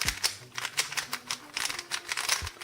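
Rapid clacky clicking of a cheap $5 speed cube puzzle being turned fast, a dense burst of sharp plastic clacks in quick irregular rhythm, close and fairly loud, with no talking.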